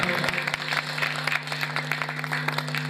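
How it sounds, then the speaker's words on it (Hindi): A crowd at a Hindi devotional performance breaks into brisk, close applause, with a low electrical hum from the sound system running beneath the clapping. "एक बार शर्मा जी के लिए जोरदार ताली।"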